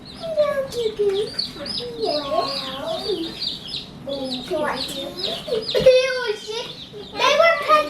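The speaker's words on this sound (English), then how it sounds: "Oh, there's one more baby chick left." Baby chicks and chickens cluck and peep in a busy, continuous chorus of close chirps, with children talking and handling them throughout.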